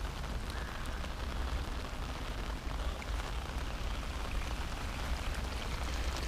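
Steady, dense hiss of heavy rain pouring down at Blue Lake in Vynohradar, Kyiv, forming runoff streams, constant and close with no pauses, a low rumble underneath and no voices.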